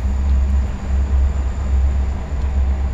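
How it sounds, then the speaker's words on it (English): A train passes just outside a window as a steady, loud low rumble, continuous throughout with no voices over it. "Oh, train's going by."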